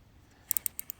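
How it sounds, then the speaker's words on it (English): A short series of about six sharp, small mechanical clicks in quick succession, close and fairly quiet, from adjusting the beam of a NAPA Blue rechargeable flashlight. "You can hear it clicking when you adjust the beam"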